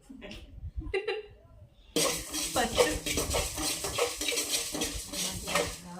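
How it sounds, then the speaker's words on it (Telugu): Coriander seeds dry-roasting in a pan, stirred with a utensil: close, continuous scraping and rattling with a faint sizzle, preceded by brief voices before the stirring starts. "ఇవి ఎంతసేపు వేయించాలి ధనియాలు?"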